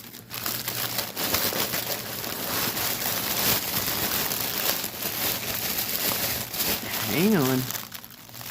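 A plastic bag from a stamped cross stitch kit crinkles and crackles steadily at close range while a person speaks briefly over it.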